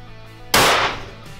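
A single loud rifle shot fired at a 1000-yard target, a sharp close crack with a short fading tail.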